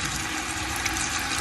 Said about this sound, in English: Go ahead and add some of this water in here now.